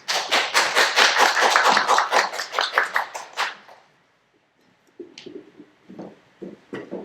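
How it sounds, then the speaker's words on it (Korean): Warm applause greets a lecturer at a high-school entrance strategy seminar in a Korean academy, a burst of clapping for about four seconds that stops abruptly, followed by faint scattered taps and small noises in a quiet room. "따뜻한 박수 부탁드립니다."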